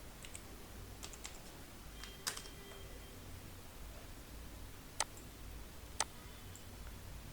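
Faint keystrokes on a computer keyboard while typing a word in CorelDRAW: a few scattered soft clicks with three sharper taps near the end, spaced irregularly over quiet hiss, no speech.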